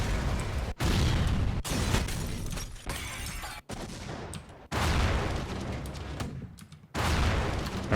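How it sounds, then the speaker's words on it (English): Explosion samples for a bass drop play one after another, each a loud booming blast with a crackling, shattering tail, separated by abrupt cuts and brief gaps. "let's grab a different explosion here"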